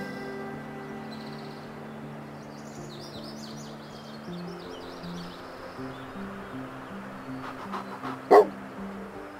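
A dog barks once, briefly and loudly, in the Hunting Simulator 2 video game, set against a steady musical backdrop and faint bird-like chirps during a ranger mission.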